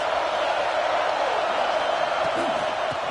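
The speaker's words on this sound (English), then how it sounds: "This crowd trying to make life miserable for this offense." Crowd noise at a football game, a dense, steady roar from a large stadium crowd that holds loud and unbroken throughout, with faint thuds mixed in.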